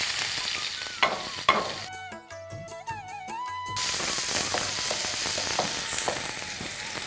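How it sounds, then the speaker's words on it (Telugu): Onions sizzle and fry steadily in a pan for a kidney curry, a close crackling hiss with a few stirring knocks, briefly interrupted by a short burst of tonal music. "చూడండి ఒకసారి ఉల్లిపాయలు వేస్తున్నామే"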